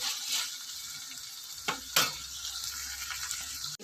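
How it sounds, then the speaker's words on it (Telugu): Prawns frying in a pan for a prawn and egg curry, a steady hissing sizzle with a couple of sharp stirring scrapes midway, close and moderately loud with no talking. "ఇది మంచిగా వేయించుకుందామండి"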